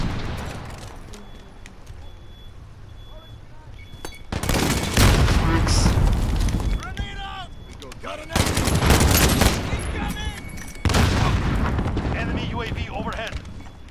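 Rapid bursts of automatic gunfire crack loudly in a shooter video game, with a heavy AX50 sniper rifle shot among them, sustained volleys stopping and restarting while players talk over the action.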